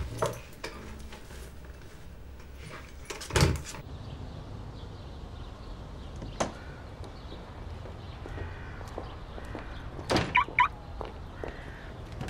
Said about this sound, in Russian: Закрой за мной дверь.